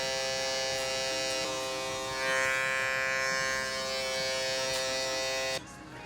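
An electric shaver runs continuously, cutting hair during a taper fade in a barbershop, with a close, loud, steady buzz that stops abruptly near the end.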